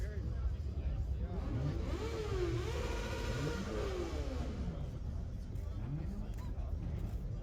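A Chrysler TC by Maserati's 2.2 turbo engine revs up and down in rising and falling sweeps, a steady mid-pitched mechanical roar heard close by, with a voice talking over it.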